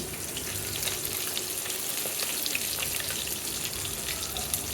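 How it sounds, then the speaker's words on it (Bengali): Fish frying in hot oil for a sour green mango curry: steady dense sizzling and crackling, close and constant throughout with scattered pops. "মাছগুলোকে একটু ভালোভাবে বেজে নিলাম"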